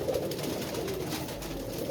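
A pigeon coos softly in a low, continuous murmur while being gently handled, close and steady throughout.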